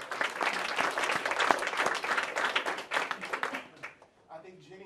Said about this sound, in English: Give all of our candidates a round of applause.